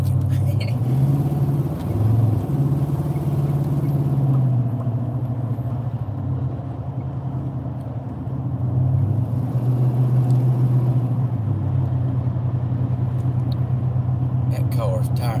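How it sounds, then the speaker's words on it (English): A car travelling alongside an RV on the road, giving a continuous loud low road rumble that swells and eases slightly over the stretch, with no talking. "That car's tired. It was tired of riding beside of us."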